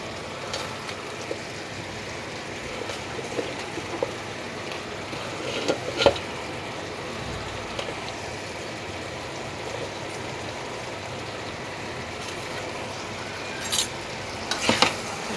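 Eggplant goes into a pan of lightly cooked green vegetables, and a soft, steady sizzle follows. A spoon stirs through it, and a few sharp utensil clinks sound near the middle and the end.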